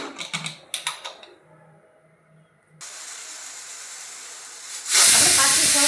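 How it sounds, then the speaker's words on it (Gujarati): A pressure cooker boiling salted chickpeas in water vents steam. After a few brief clicks and taps, a steady hiss starts, then bursts into a much louder, sustained whistle to the end. "કુકર બંધ કરીને આપણે 5 થી 6 સીટી થવા દઈશું."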